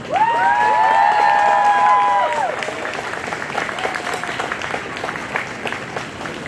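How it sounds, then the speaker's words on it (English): At the Ann Arbor Entheofest 2025 gathering, an audience erupts in whoops and cheers that fade into sustained, fairly close applause with individual claps standing out. "Big, big round of applause for Emily Berryman."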